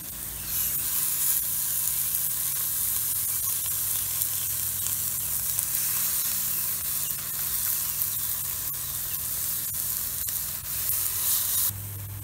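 About eleven big burgers, 4.5 pounds of meat in all, sizzle on a hot Watchman stove outdoors with a loud, constant frying hiss and occasional small crackles, and no talking.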